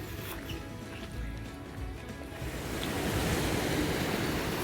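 Sea waves at Redi beach, a wide sandy shore lined with rocks: a continuous roar of surf that swells louder toward the end, with wind buffeting the microphone and no voices.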